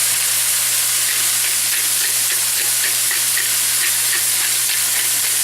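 Steak frying in a pan gives a steady, close hiss of sizzling with a constant low hum underneath, and no one speaks.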